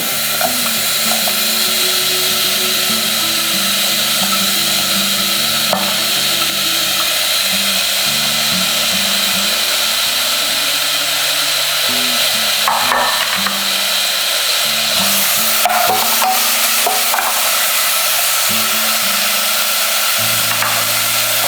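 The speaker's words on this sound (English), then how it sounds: "now what we do is add some bacon" Bacon fries in a pot for seafood soft tofu stew, a loud, continuous close-up sizzle and hiss that runs unbroken for about twenty seconds, with faint kitchen hum and occasional light clicks underneath and no speech.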